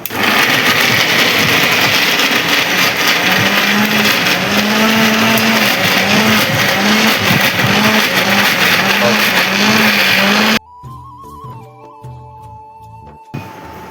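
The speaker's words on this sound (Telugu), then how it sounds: "ఇప్పుడైతే మిక్సీ పట్టుకోవాలి దాన్ని మిశ్రమాన్ని అంతా" A mixer grinder runs loudly and steadily for about ten seconds, blending a paneer curry mixture in its jar. The motor then cuts off abruptly, leaving quieter rattling and handling noises.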